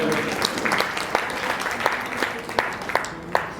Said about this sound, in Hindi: मैं आप सभी से कहूंगा मेरे बिहार पे एक बार आपके लिए जोरदार तालियां बजाइए